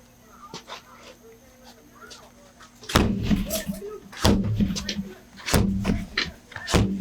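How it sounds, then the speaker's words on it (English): Deputies break down a door with several heavy, booming impacts spaced a second or so apart, close and loud, while people talk tensely around the blows. "we are going to break the door"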